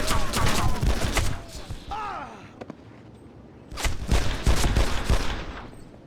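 Bursts of gunfire in the mob shooter Made Man, a rapid crackle of shots in two main volleys with a quieter lull between, mixed with whooshes and voices in the game scene.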